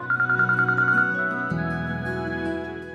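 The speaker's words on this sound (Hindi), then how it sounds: "एक्सक्यूज मी, फोन आ रहा है।" A phone ringtone plays in a home during a family dinner gathering, a steady melodic tone repeating rapidly for about a second before shifting into a fuller, sustained musical jingle that continues at moderate volume.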